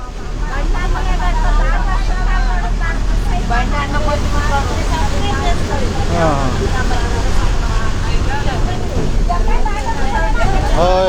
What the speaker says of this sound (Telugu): బస్సు వెళ్తుందిగా